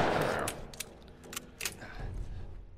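Gunfire in a shooter video game, a couple of quick faint bursts of shots over low background game noise, with no talking.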